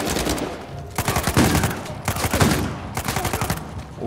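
Repeated bursts of automatic gunfire in Uncharted 4, with dense rattling volleys separated by short pauses, loud and close, and no talking.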